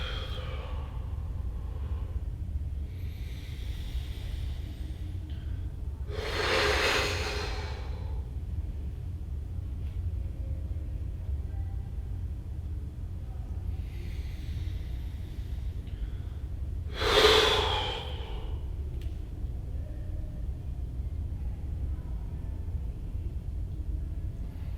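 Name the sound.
deep inhaling and exhaling during yoga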